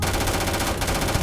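Automatic weapon fire in the sci-fi video game Starfield, a sustained loud burst of rapid shots that hammers on without a break.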